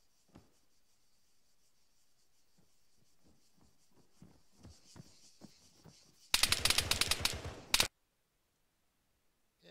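Gunfire in the video game Operation Trebuchet: a series of faint scattered shots builds up, then a loud, dense burst of rapid automatic fire cuts off abruptly into silence.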